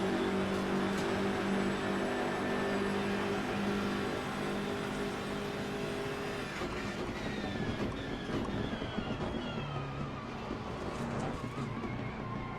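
A race car engine in Assetto Corsa Competizione, droning steadily and rising in pitch as it revs out, with a faint voice now and then.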